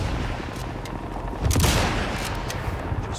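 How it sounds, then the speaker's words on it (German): Sniper rifle fire in the video game Sniper Elite 5: a single sharp shot rings out mid-clip over a steady bed of game ambience, with no talking. "Ich nehme mal meine Sniper."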